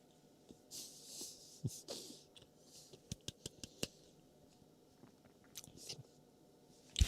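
Close-miked chewing of a mince pie, with soft wet mouth sounds and a run of sharp crunchy clicks in the middle, quiet between bites and right at the microphone.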